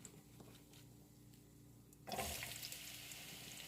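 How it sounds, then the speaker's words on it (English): Onion hits a hot pan and bursts into loud, steady sizzling that continues, after a quieter stretch of low kitchen background. "make sure that it sizzles when I put it in there"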